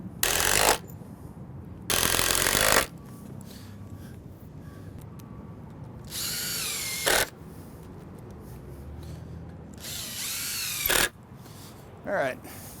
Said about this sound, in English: I'm gonna go ahead and throw some screws in here real quick.